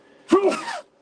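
One short, sharp sneeze bursts out close by in an otherwise quiet room during a gemstone showing.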